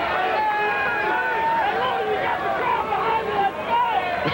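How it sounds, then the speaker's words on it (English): Crowd at a 1994 AVP beach volleyball final in Clearwater, a steady bed of cheering and chatter from spectators with some shouts rising above it. "You got the crowd behind you."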